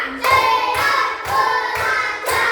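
A class of schoolchildren claps hands together during a counting routine in a classroom, giving five evenly spaced, loud group bursts about twice a second, with voices chanting along in unison.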